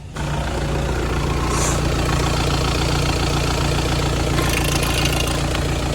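A 2018 Volkswagen Tiguan 2.0 TDI diesel engine idles smoothly and steadily up close, a constant low rumble with an even, unbroken rhythm.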